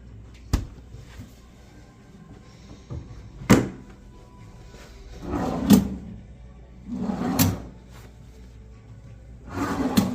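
Empty hotel room drawers slide open and shut several times, with sharp wooden thunks and rolling scrapes at irregular intervals, close and fairly loud over quiet room tone.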